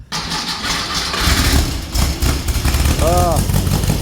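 A Volkswagen Karmann Ghia Baja with a swapped reduction hub gearbox cranks and catches, settling into a rough, close idle as a voice briefly exclaims.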